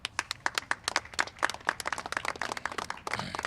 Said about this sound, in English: You can now clap at that.